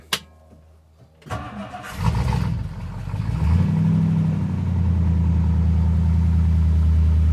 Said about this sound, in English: I'm gonna go ahead and start her up, check oil pressure, and test for leaks